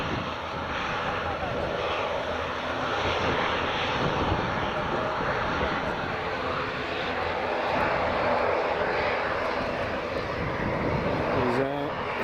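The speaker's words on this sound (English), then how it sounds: "Ryanair's just about to depart." A Ryanair jet airliner departs Edinburgh Airport. Its engines make a loud, steady broadband roar that holds for the whole stretch, with a brief sweeping tone near the end.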